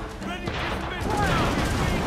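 Ship cannon fire in the pirate game Assassin's Creed IV: Black Flag, a dense rolling barrage of booming shots with crashes, loud and continuous, with a voice briefly audible over the battle.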